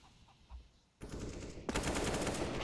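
Rifle gunfire in a professional Counter-Strike: Global Offensive match between Liquid and NaVi, with bursts of rapid shots that start suddenly and then grow denser and louder, heard fairly faintly in the game mix.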